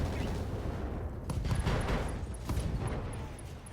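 Mech weapons fire in RogueTech, a few muffled blasts and crackling impacts over a steady low rumble, at moderate loudness, with short high electronic beeps repeating in the background.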